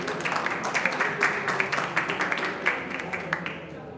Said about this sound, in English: Give a big round of applause for all the winners of our high-grade award.